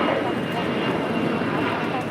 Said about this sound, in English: This is Gulfstream G150 is taking off to Akron, Ohio.